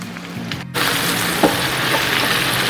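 Julienned red and yellow bell peppers hit a pan of frying Italian sausages, and a brief quieter moment gives way to a loud, steady, close sizzle with a faint stir tap partway through.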